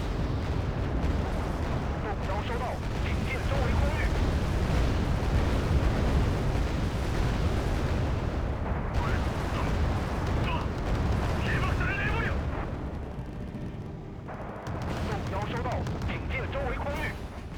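Explosions and heavy battle noise in the video game Wargame as Q-5A jets carry out a bombing run, dense rumbling booms and blasts, with a voice talking over them.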